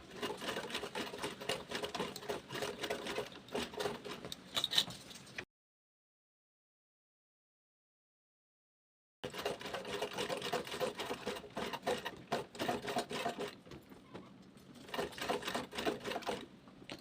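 Close sewing machine stitching through a fabric bag, a fast, even chatter in two long runs broken by several seconds of silence, with the pace easing slightly near the end.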